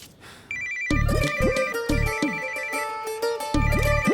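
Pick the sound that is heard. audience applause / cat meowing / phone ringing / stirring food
phone ringing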